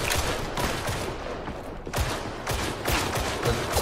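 Rapid bursts of gunfire from Warhammer 40,000: Darktide, loud and dense, with repeated volleys and sharp shots recurring throughout, no speech over them.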